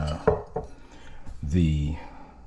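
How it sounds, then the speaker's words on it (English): A spatula scrapes and knocks against a bowl while mixing almond flour pound cake batter, a few soft clacks and a brief scraping swish, with a speaking voice during the mixing. "So I'm going to use the spatula to continue the mixing"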